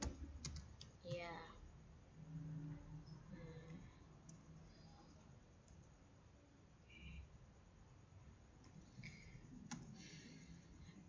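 Fingers typing code on a computer keyboard, faint and close, in scattered bursts of clicking keystrokes with short pauses, while a voice talks quietly at times.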